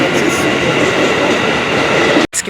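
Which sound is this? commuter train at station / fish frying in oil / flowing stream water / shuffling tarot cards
commuter train at station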